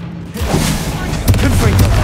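Bombarda blast spell in Hogwarts Legacy, a loud booming explosion with thudding low rumble and crackling debris bursts, heavy and near, layered with game combat noise.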